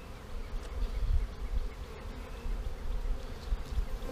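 Honeybees drone steadily at an opened hive during a Snelgrove split, a dense low buzz that stays close and even throughout with no talk.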